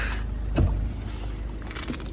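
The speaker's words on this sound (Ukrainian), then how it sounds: "Зараз ще покажу вам, що в нас там, як там трудиться наш двигунчик." A 2016 Skoda Octavia A7 with a 2.0 TDI 110 kW diesel and DSG automatic runs with its hood open, giving a steady low rumbling drone with a brief knock partway through and no talk.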